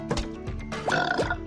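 A burp in a Plants vs. Zombies gameplay session, two short guttural bursts in quick succession, close and fairly loud.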